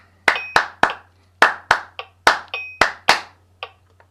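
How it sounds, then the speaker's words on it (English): Sharp, dry hand claps in an irregular interlocking rhythm from two or more people performing Steve Reich's Clapping Music, about a dozen close, loud claps over four seconds, with no talking. "Steve Reich's clapping music"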